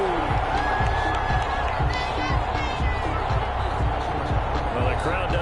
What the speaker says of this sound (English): Well, the crowd doesn't like that.